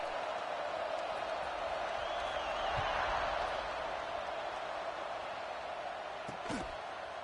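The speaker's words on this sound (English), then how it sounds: "this crowd is buzzing after that last score" A steady, distant stadium crowd in an NCAA Football video game hums and buzzes continuously with a faint swell midway, a wash of background noise without distinct cheers.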